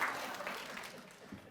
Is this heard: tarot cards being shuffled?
no